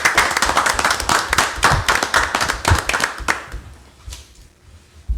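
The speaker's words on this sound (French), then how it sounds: "je pense que c'est une belle main d'applaudissement pour remercier M." Applause at a municipal council meeting thanking a retiring councillor after 27 years, close and fairly loud clapping from a small group that thins out and fades near the end, leaving a few last claps.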